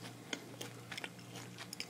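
Close crisp biting and chewing of a Cosmic Crisp apple, several sharp crunchy snaps scattered through a quiet moment with no talk.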